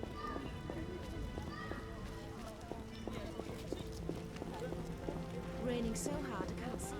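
Steady video-game downpour of heavy storm rain hissing and pattering over a dense, busy background with occasional thuds, continuous and moderately loud throughout.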